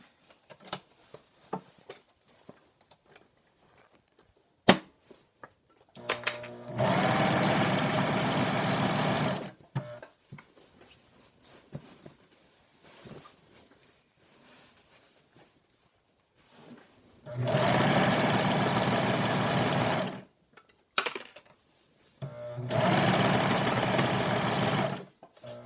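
A serger sewing machine stitches an isolation gown in three loud, steady bursts of fast whirring, separated by quieter gaps of handling noise and small clicks.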